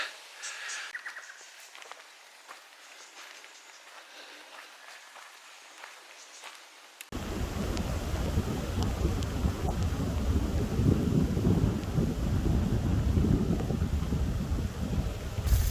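On the Cooloola Great Walk, a quiet spell gives way to a sudden heavy downpour. Rain roars loud and close, and strong gusts buffet the microphone.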